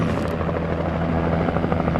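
A helicopter in the Alan Wake video game thrums loudly and steadily close by, its rotor producing a continuous low, choppy drone with no pauses.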